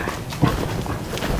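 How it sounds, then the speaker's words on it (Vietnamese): A fierce dog at a rural home in Kiên Giang, Vietnam, gives a brief close growl or bark amid noisy outdoor background, with no talk. "con chó ghê quá vậy"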